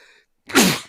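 A single sharp human sneeze bursts out after a brief silence, close and loud, following a faint trace of speech.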